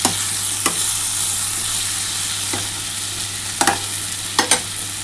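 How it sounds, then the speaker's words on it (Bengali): Red lentils are stirred with a bay leaf frying in a wok, a steady sizzle broken by a few sharp scrapes of the spatula, close and fairly loud with no talking. "আর একটুখানি নাড়াচাড়া করে নিচ্ছি"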